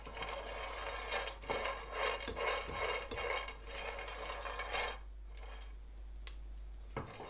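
Raw peanuts being dry roasted in a pan for panjiri, with steady scraping and stirring rasps from a spatula against the metal for several seconds, then a quieter stretch with only a couple of light clinks.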